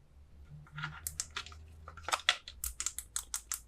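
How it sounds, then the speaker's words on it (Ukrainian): Rubberized buttons on an AUTOOL BT360 digital battery tester being pressed, a quick series of soft, close clicks speeding up into a dense run of taps toward the end. "Кнопки видають звук гарно клікабельні, прорезинені."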